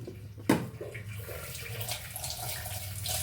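Water drains and splashes steadily off soaked grape vine leaves, a close continuous pouring wash with one sharp knock near the start, no talk.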